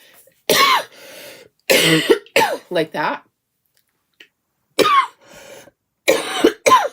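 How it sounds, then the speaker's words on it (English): Harsh, repeated coughs come in bursts with pauses between them, close to the microphone, with a few quiet words spoken in between. "sometimes you just have to cough and get it done with"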